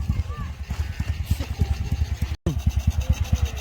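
A motorcycle engine idles with a fast, uneven low thumping, close and fairly loud, broken by one brief cut before it carries on running.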